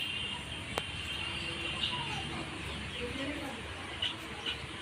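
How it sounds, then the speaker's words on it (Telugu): A chick clucks faintly in a few soft, high chirps over steady background hiss, with no other clear sounds. "కోడి పాపని పట్టుకో పట్టుకో కోడి పాపని"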